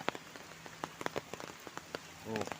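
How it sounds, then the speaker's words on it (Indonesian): Heavy rain pours over a rural village, a dense steady patter of drops striking surfaces nearby with sharper individual splashes, and a brief voice rises near the end. "Nih banjir juga besar sekali hujannya."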